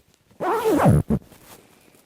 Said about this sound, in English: And then if I zip it up